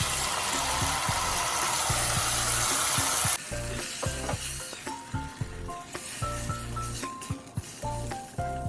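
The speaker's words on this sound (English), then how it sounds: "Now add the roasted cherry tomatoes." Roasted cherry tomatoes go into a hot pan for homemade marinara sauce. A loud, steady sizzle drops in level and continues under repeated scraping and clicking as they are stirred.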